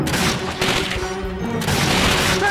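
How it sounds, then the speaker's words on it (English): Machine gun fire in the WWII shooter Call of Duty: Finest Hour, a loud, steady rattle of automatic bursts blended with surrounding battlefield noise, no clear talking. "Machine gun on the right!"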